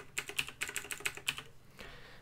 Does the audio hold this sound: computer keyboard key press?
yes